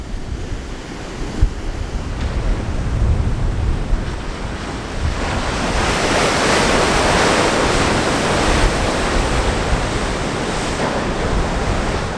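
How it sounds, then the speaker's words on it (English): Rough ocean surf rolls and crashes continuously on a cold coast while gusty wind buffets the microphone, a loud, dense roar that swells and stays heavy throughout. "it's a rough day out on the water"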